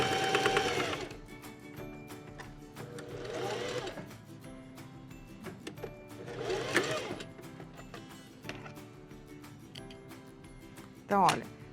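Sewing machine stitching fabric for an Easter bunny door stop, running forward and then in reverse, in several loud bursts of rapid stitching separated by pauses, with a brief sharp burst near the end.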